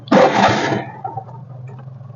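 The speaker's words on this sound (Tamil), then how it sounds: "நாங்க வண்டி ஸ்டார்ட் பண்ணிட்டு போறோம்ப்பா" An auto rickshaw's small engine sputters to life with a loud rattling burst, then settles into a low, steady idle.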